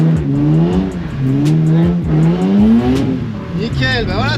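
A car revs and accelerates hard while drifting through figure-eight practice, its engine note rising and falling in sweeping waves, with tyres squealing near the end and a voice talking over it.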